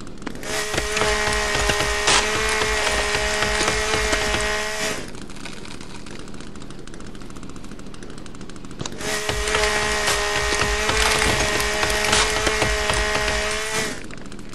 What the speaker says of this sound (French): Pousser du bout de la tronçonneuse.